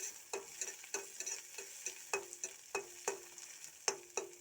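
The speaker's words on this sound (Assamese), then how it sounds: "আৰু পিঁয়াজখিনি এনেকৈ অকণমান ৰঙচুৱা হোৱালৈকে মই ভাজি থাকিম" Onions fry in a pan under a constant soft hiss, with a spatula scraping and tapping the pan about twice per second in a steady, close rhythm.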